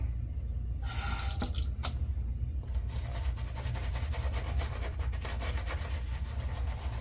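Water runs from a tap in a steady splashing stream, with a few clinks and knocks of objects near the start.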